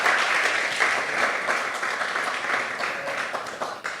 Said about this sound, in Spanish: denle un aplauso a Jesús porque Jesús es hermoso